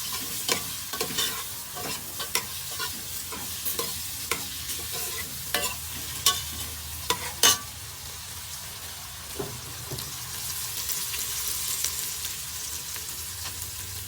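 Green papaya curry is stirred as it fries, with repeated sharp spoon clacks and scrapes against the pot over a soft sizzle. The stirring stops partway and a quieter, steady frying hiss carries on alone.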